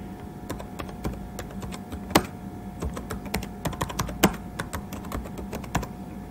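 Rapid irregular clicking of a computer keyboard while filling in high school details on an online scholarship application form, close and clear with occasional louder keystrokes, no talking.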